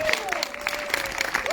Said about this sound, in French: Je crois qu'on peut applaudir Mario.